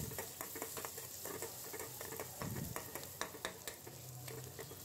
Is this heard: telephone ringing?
no